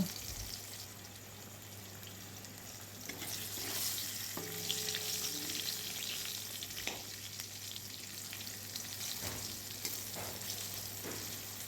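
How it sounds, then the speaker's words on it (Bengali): Eggplant pieces frying in hot oil with salt and turmeric, a continuous bright crackling sizzle with occasional stirring scrapes, steady and close throughout with no talking. "বেগুনটা ভালো করে ভাজতে হবে"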